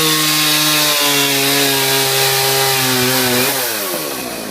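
A chainsaw cuts through a 2x6 wooden board, its engine holding a steady, loud whine with strong harmonics before the pitch bends and fades as the cut finishes.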